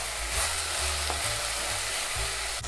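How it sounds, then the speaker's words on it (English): Green cabbage and zucchini sizzle and fry in a pot for lentil soup while a spoon stirs them, a steady close crackle with soft scraping pulses and no talking. "I'm going to cook and stir this for a few minutes."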